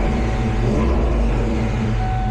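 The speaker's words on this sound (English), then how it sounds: "I'm going to rev it up." A car engine turning over in gear on a lift with its drive wheels spinning, a steady low drone with a faint whine, continuous and fairly loud up close, no talking.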